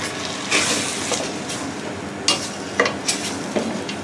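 Risotto rice cooking in broth, a soft bubbling simmer under several sharp spoon-stirring scrapes and clinks against the pot, close and alone.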